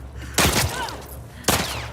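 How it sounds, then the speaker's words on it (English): Gunfire in The Last of Us Part II, two sharp bursts of shots about a second apart, loud and close with a brief echoing tail after each. "Who the fuck is shooting?"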